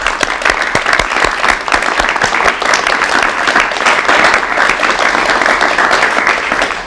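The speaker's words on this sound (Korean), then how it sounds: "박수로 맞이해 주십시오." A studio audience at a 1984 KBS television talk show breaks into loud, vigorous applause welcoming a guest, a close, crisp flurry of individual claps over a dense crowd wash that holds steady throughout.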